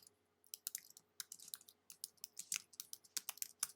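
Quiet, close keystrokes tap on a computer keyboard in irregular quick bursts, with brief pauses between clusters of clicks and no voices.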